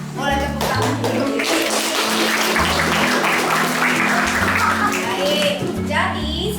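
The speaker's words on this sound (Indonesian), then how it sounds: "Boleh tepuk tangan dulu." Students in a classroom clap together, a dense burst of applause mixed with children's voices and chatter, loud and close, with a teacher's voice over music-like tones underneath.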